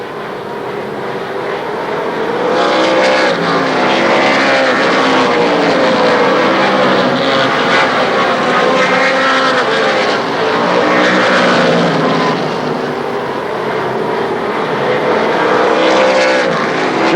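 Race cars roaring around the oval at Shadybowl Speedway in 1995: a loud, continuous blended engine drone from a pack of cars, swelling and holding steady throughout, with no speech on top.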